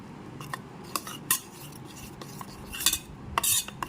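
Spice mixture being stirred with a utensil in a bowl before rohu fish pieces go in; light, irregular metallic clinks and scrapes, close and alone.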